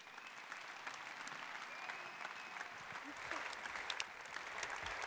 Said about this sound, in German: Klatschen Sie mit mir